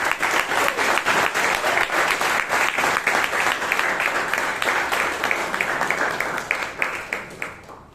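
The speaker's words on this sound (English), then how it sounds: "So for a job well done, a loud round of applause to our Table Topic Master, Toastmaster Shivangi Bhatt." A loud, sustained round of audience applause at a Toastmasters club meeting in Bangalore, dense and continuous, holding strong before tapering off near the end.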